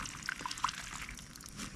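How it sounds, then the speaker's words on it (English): Water poured from a container into planting holes dug in garden dirt, making a soft splashing trickle with a few brief drips, fairly faint and close by. "I'm going to water the holes"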